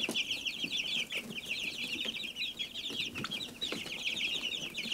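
Several chickens clucking and chirping continuously nearby in a coop shared with turkeys, a busy overlapping chatter with occasional soft thumps and rustling underneath.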